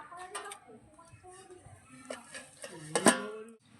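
Metal pot clatter in a rustic village kitchen as a lid is set on a cooking pot, light clinks followed by a sharp metallic clank near the end, with faint voices in the background.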